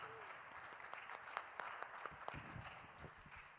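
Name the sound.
audience clapping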